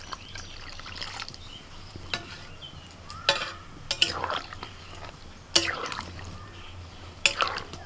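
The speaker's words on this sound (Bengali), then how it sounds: "এবার আমি জল দিয়ে দিচ্ছি" Water poured from a mug into raw rice and spices in a cooking pot, a few splashy gurgling bursts with soft stirring scrapes and clinks between them, close and moderately loud.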